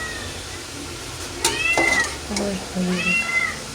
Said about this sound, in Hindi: ओए बिल्ली भी हमारी आ गई, वाह वाह, बिल्ली को खुशबू लग गई।